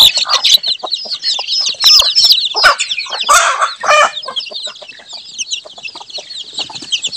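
Many chickens and roosters kept at a village home cluck and squawk loudly and close, with overlapping calls and a few crow-like bursts, busy at first and then thinning to quieter clucking.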